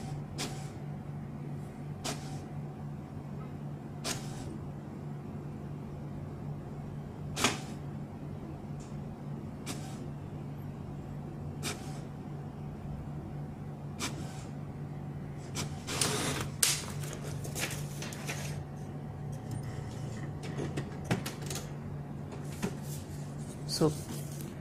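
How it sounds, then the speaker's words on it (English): An HP Deskjet 3639 inkjet printer prints a page, a steady low mechanical hum broken by periodic clicks and clacks as the carriage moves and paper feeds, under occasional talk. "You can see this is the printing. So we will wait to complete this."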